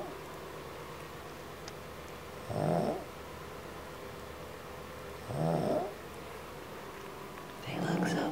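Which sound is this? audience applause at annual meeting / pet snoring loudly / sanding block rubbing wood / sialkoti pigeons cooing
pet snoring loudly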